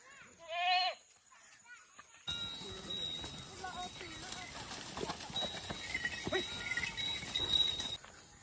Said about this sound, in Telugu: మేకలన్నీ దూరిపోయినాయమ్మా